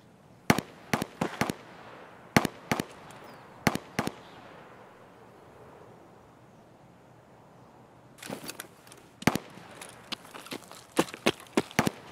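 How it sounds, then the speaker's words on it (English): A distant firefight in the video game Escape From Tarkov, with sharp gunshots cracking out in scattered single shots and quick bursts, separated by a stretch of quiet outdoor ambience before a denser volley near the end. "We've definitely got a firefight going on at K's"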